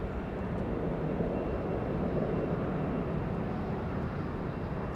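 A jet airliner taking off from Los Angeles International Airport and climbing out, heard as a steady, broad, continuous engine roar holding at an even level with no voices.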